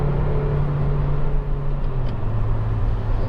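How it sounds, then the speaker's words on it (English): A Honda Civic 1.8 i-VTEC EX revs while being driven, its engine holding a steady droning tone over road rumble, close and fairly loud with no talk. "engine just sings its little heart out"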